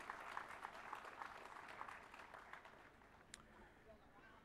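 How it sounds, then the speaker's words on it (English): Applause from an audience at a company silver jubilee celebration honouring a long-serving employee, steady, fairly faint and distant clapping that tapers off toward the end. "A big round of applause for Mr. Arindam Mukherjee"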